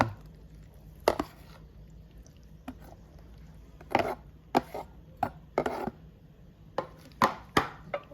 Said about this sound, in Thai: อันนี้เราจะตำแล้วนะคะ